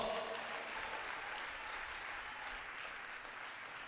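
Audience at a Christian church gathering clapping, a dense, steady wash of applause that sounds somewhat distant and holds evenly throughout.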